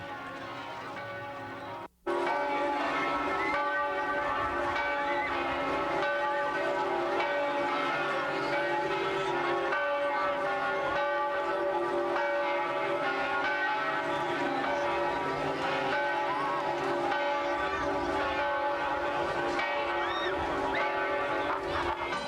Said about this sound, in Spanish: En ese momento se escucharon las campanas del Campanelli.